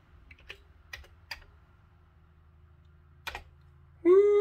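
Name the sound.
typing on a computer keyboard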